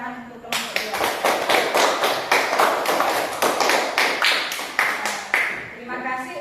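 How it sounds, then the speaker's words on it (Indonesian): A class in a school room claps for a group of students who have just presented, a burst of loud, dense hand clapping that starts abruptly, holds steady for several seconds, then thins out toward the end. "beri tepuk tangan untuk kelompok 2"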